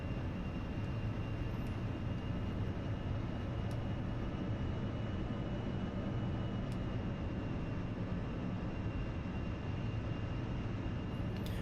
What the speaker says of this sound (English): Now it's a case of how smoothly can we touch down in a MiG-21.